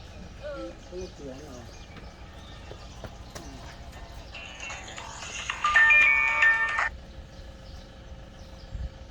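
A phone ringtone sounds for about two seconds as an incoming call arrives, a loud bright tonal burst standing out over a noisy outdoor background with faint bird-like calls earlier on.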